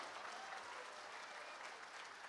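Audience applause at a Hindi literary festival stage event, a steady wash of many hands clapping throughout with no talk over it.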